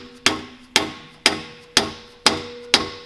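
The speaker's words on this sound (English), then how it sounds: "We're just bending the clamp there." Six evenly spaced, sharp metallic hammer blows ring out close by as an exhaust clamp on a BMW E36 exhaust is bent, each strike decaying quickly before the next.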